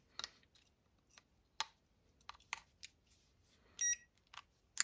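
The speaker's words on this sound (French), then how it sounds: "quand vous l'insérez, ça fait bip" A short series of high electronic beeps with brief clicks between them, including one longer sustained tone near the end, close and fairly quiet, from a body electrical-pollution detector as an AAA battery is inserted.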